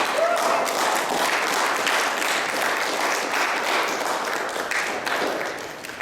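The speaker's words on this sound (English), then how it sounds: "How about a round of applause?" Audience applause at a neighborhood council meeting: a steady round of many people clapping in a room, loud at first and tapering slightly toward the end, with a brief voice at the start.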